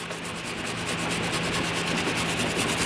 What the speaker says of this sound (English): I like to grab a small metal brush and then brush it right here where the hardware sits